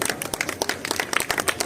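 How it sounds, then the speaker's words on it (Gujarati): An audience at a YouTubers' honouring event claps in a dense, irregular patter of many hands, steady and fairly close, with no talk over it. "વચમાં તાળીઓ પાડતા રહેજો બધા"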